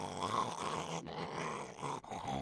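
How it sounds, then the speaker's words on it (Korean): A man snores loudly in his sleep, with harsh, rattling, growl-like snores close to the listener and brief breaks between them about every second. "아주 코 고는 소리는 장군감이다"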